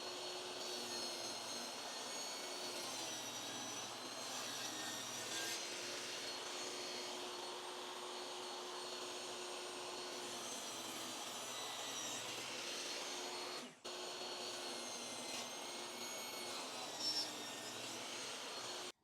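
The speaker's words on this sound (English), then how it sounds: "All right, back to the table saw with these guys." A table saw runs steadily as fence picket wood is fed through it, giving a loud continuous whine with a short break partway through.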